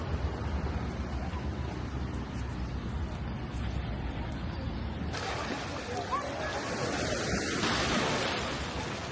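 Ocean waves rolling onto a sandy beach at Kato Paphos, Cyprus, at evening: a steady broadband wash and surf roar runs throughout, close and fairly loud, with wind noise and faint people in the background.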